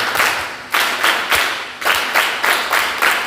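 A seminar audience claps together in a rhythmic drill, about seven loud, tight bursts of applause, each one sharp at the start and fading quickly, with brief gaps between them.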